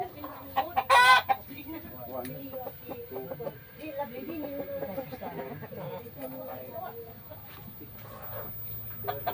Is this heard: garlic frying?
no